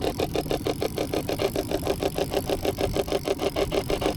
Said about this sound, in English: Turn the motor the other way.